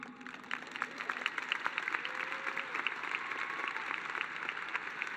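Applause from a crowd at a high school graduation ceremony, a soft, steady patter of clapping heard from a distance and sustained for several seconds.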